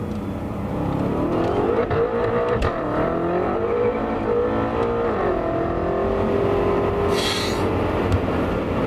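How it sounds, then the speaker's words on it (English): BMW F10 M5 engine revving in first gear, a dense, loud growl that climbs and falls with throttle blips under steady road and tire rumble, close and continuous, with a brief high whine near the end. "We're gonna get into 1st gear and just try and trot the throttle."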